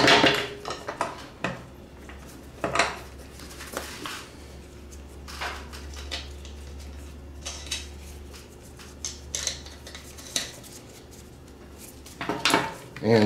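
Metal clinks and scrapes from fastening nuts onto a replacement spindle and blade on a John Deere Z335e riding mower, a series of sharp close taps and rattles over a steady low hum, with brief pauses between bursts.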